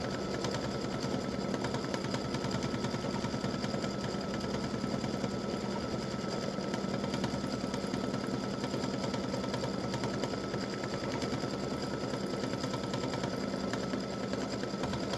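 An embroidery machine stitches an edge-to-edge butterflies and hibiscus design, running as a continuous, rapid mechanical hum and chatter at an even, close-up level.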